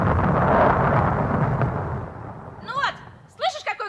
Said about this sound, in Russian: Ну вот, слышишь, какой гром?